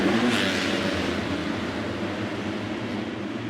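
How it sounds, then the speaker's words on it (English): Motocross bikes rev together at the starting gate of a muddy 2018 Unadilla National race, a blended, buzzing engine roar from a distance that holds steady and eases slightly, with no talk. "The riders are locked and loaded, revs are up, and the gate is down."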